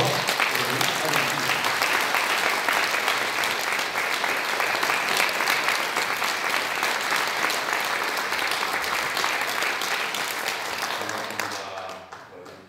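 An audience at a church lecture gives sustained, loud applause to welcome a professor onto the stage, with dense continuous clapping that fades out near the end.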